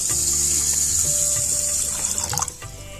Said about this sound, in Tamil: இப்போ இது மூழ்கிற அளவுக்கு தண்ணி ஊற்றிக்கலாம்.